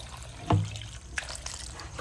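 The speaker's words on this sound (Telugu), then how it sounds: "వాటర్ వేసుకుంటుంది." Water goes into a pot of cooking lentils with mango, tomatoes and turmeric: one quick, close splash, then a soft, quiet trickle.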